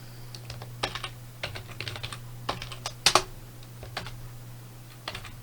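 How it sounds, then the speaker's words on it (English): Typing on a computer keyboard, a close series of quick, irregular key clicks in short bursts with brief pauses, including a louder cluster of clacks midway, over a faint steady background hum. "yes, I'm typing. I'm not ignoring you."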